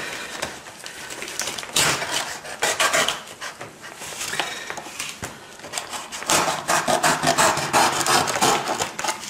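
Material being cut with a blade or saw, a close, loud run of rasping, rubbing strokes that come in bursts with brief pauses between them, and no one speaking.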